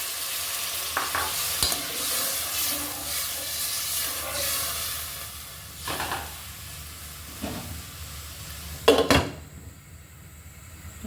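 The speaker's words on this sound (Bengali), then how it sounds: "মশলাটার সাথে আমি কুচুটা কিন্তু একটু কষিয়ে নিব" Taro being stir-fried with spices in a pan, a steady sizzle and hiss under scattered spatula scrapes, with a louder clatter near the end and no talking.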